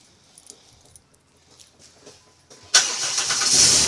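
A 2007 Chrysler Town and Country minivan is cold-started: a few faint clicks and fumbling give way to a sudden crank that catches, then the engine settles into a steady, loud idle close by.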